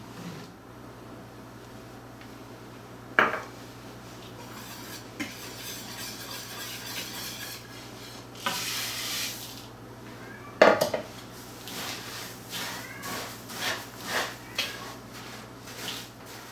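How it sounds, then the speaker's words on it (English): A wire whisk stirs flour and baking soda together in a bowl for bran muffin batter, giving soft scraping strokes with a few sharp metallic knocks and clatters against the bowl, over a steady low kitchen hum. "Now I'm going to mix the soda and the flour together first with the whisk"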